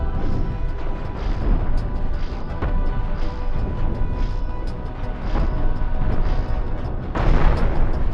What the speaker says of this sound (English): It's one mega center cannon.